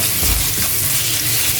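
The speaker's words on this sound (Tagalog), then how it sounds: "Magigisa na tayo ng sibuyas at bawang." Onion and garlic sautéing in oil in a pan for pork adobo, a dense continuous sizzle with a couple of low stirring knocks early on, close and steady with no talking.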